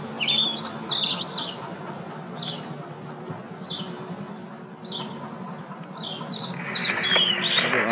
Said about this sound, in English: For those of you who thought those sounds of birds too brief, here is the same audio again, slowed to 3/4 speed